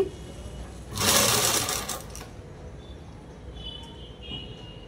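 A sewing machine stitches lining fabric in one loud, fast whirring burst of about a second, then drops back to a quiet room hum.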